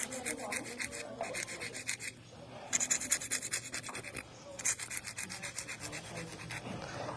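Acrylic nails being filed into an almond shape, rapid rhythmic rasping strokes in bursts with short pauses, close and fairly loud, with no speech.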